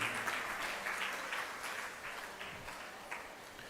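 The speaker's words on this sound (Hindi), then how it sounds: "तालियां कुछ ज्यादा मरी मराई नहीं बजी हैं।" A lecture audience claps in a broad wash of applause, with a few sharper individual claps standing out as it slowly fades a little over several seconds.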